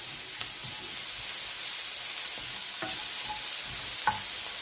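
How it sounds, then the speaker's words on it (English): Chopped bacon and egg ingredients sizzle steadily in a frying pan, a loud constant hiss with occasional scraping clicks as they are stirred, no voices. "all them lovely ingredients we chopped earlier, get them in the pan. And give them a good mix around."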